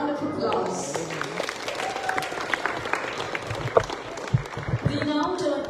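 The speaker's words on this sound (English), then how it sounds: "Let's give Ridhima a round of applause." An audience applauding at a Dhamma Chakra Pravartan Day gathering, a dense steady patter of many hands clapping throughout, mixed with crowd noise.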